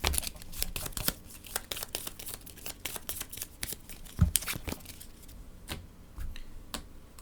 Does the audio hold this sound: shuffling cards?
yes